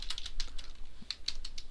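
Rapid typing on a computer keyboard while writing Visual Basic code: a quick run of crisp, light key clicks in an uneven rhythm, heard close and alone over a faint low hum.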